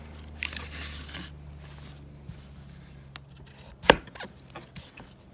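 A knife with a high saber grind makes a series of short chopping and crunching cuts, one louder crisp snap standing out among softer scrapes and taps, heard up close without speech.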